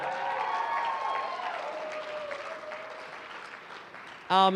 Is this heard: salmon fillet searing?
no